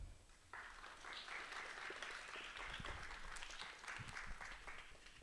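A room of people at an astronomy and space physics research presentation breaks into applause, a steady wash of clapping that holds for several seconds before easing slightly at the end.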